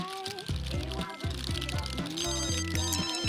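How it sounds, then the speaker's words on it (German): A mobile phone rings inside The Sims 3, a chirpy in-game ringtone with repeated melodic pulses mixed over the game's background music, fairly loud and steady, with no speech. "Ja, das Handy klingelt."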